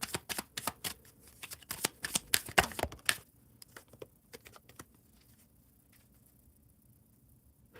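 Tarot cards being shuffled by hand: a quick flurry of crisp riffling snaps for about three seconds, then a few scattered soft card taps and slides fading into near silence.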